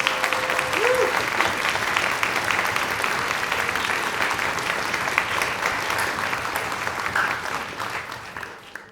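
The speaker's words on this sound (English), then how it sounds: "Let's give them a round of applause" An audience at a high school honor orchestra event applauds two former teachers, loud sustained clapping from a full room, steady throughout and tapering slightly at the end, with a brief tone near the start.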